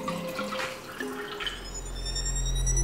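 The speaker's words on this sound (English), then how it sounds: "Then we'll take this water and we'll pour it into our trusty glass" Water measured at 250 milliliters is poured into a glass, giving a close, steady liquid splash with drips, then a rising, filling tone as the glass fills over a few seconds.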